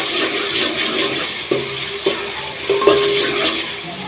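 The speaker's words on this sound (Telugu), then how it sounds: "టమాటా వేసుకొని ఇది మగ్గేంత వరకు మంచిగా కలుపుకున్నాము" Tomato fries in a pan for fish curry with a soft, steady sizzle, broken by a few sharp spatula scrapes and knocks as it is stirred close by.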